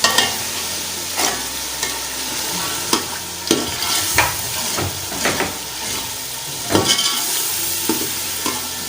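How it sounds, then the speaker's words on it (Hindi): Green peas being stirred into frying masala, with a loud, bright sizzle and repeated scraping strokes of a spoon against the pan, close and without talk. "सबसे पहले हम शामिल करते हैं मटर, ग्रीन मटर शामिल कर लेते हैं।"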